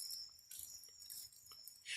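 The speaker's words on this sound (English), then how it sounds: "Oh, hear the crickets." Crickets chirp at night in a steady, faint high-pitched trill with small pulses, heard alone with no voices.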